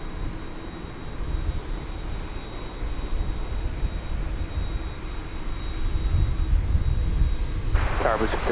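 A UPS MD-11 jet with GE engines at DFW Airport, heard as a steady, loud engine roar and rumble that holds throughout and swells slightly toward the end.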